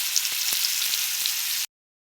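Fish frying in oil in a pan gives a dense, close sizzle with a few faint pops and ticks, steady for under two seconds before cutting off abruptly.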